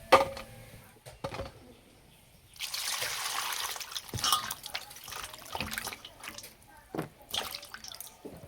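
Water trickles and splashes while cut eggplant, potato and bottle gourd stalks are washed, a soft burst of running water in the middle amid quiet drips and handling noises.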